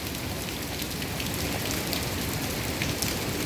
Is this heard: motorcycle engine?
no